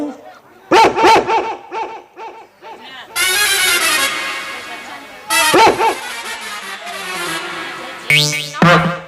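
Sharp bursts of dog barking interrupt speech, alternating with people talking and a brief vehicle horn toward the end.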